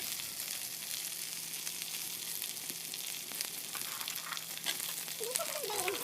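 Chopped capsicum and peas fry in hot oil for fried rice, giving a continuous, fairly quiet sizzle with small crackles and faint stirring ticks throughout.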